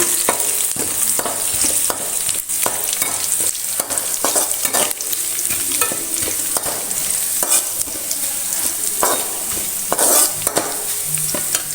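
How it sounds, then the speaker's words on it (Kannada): Crushed ginger and garlic fry in a pan for Kundapur-style oyster masala, giving a steady, close sizzle broken by repeated spatula scrapes and stirring knocks, with no voices. "ಜಜ್ಜಿ ಇಟ್ಕೊಂಡಿದ್ದೀವಲ್ಲ ಅದನ್ನು ಹಾಕೋಣ ಸ್ವಲ್ಪ ಫ್ರೈ ಮಾಡೋಣ"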